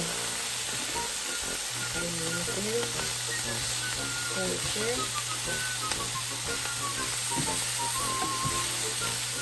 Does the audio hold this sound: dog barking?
no